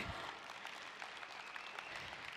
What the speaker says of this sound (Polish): Wielkie brawa dla was.